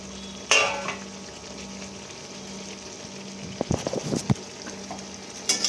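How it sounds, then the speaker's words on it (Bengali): Fried potato and cauliflower are stirred into spices frying in a pan, giving a low steady sizzle broken by a sharp clatter and then a burst of scraping and knocking strokes near the end. "এবার ভালো করে সব কিছু একসাথে মিক্স করে নেব"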